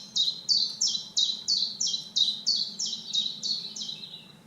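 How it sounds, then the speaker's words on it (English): Chiffchaff song played from a recording: a run of about a dozen evenly paced, bright repeated chirps, clear and close over a low background hum. "birds change their song seasonally. So with the chiff-chaff,"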